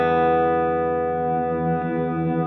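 Sustained electric guitar reverb tail held by a TC Electronic Infinite Sample Sustainer pedal, a steady layered harmonic drone with a faint shimmer, loud and even throughout with no talking.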